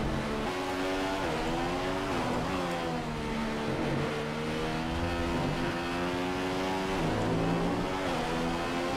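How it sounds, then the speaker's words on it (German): Several Formula 1 cars from the F1 2015 video game at the Singapore night circuit, their engines droning and shifting pitch in overlapping whines that rise and fall steadily with no talk. "Da waren das bloß die Autos auf der anderen Streckenseite."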